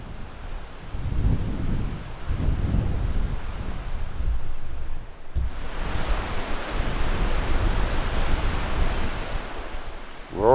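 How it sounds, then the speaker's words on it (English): The Snake River's rushing water roars continuously, a loud, dense broadband wash like a waterfall, close by and unbroken, with wind buffeting the microphone and no talking. "Roar of that water is so loud"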